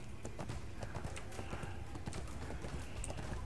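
Horse hooves clip-clop in a quick, steady galloping rhythm in the ArcheAge online game, continuous and fairly close throughout, with a faint neigh-like tone and light game ambience underneath.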